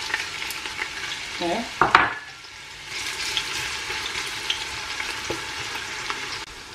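Diced onion frying in oil for a Ghanaian okra stew, a steady close hiss of sizzling with brief stirring and clatter near the start and a short spoken word.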